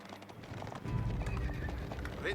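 Horses in Age of Empires IV clatter with dense hoof clip-clop and a whinny, packed into a short busy burst of game sound.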